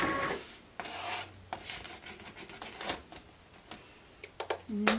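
Cricut cutting machine drawing a cutting mat in under its notches, with scraping, rasping feed noises and scattered clicks and taps, ending in a short mechanical whir.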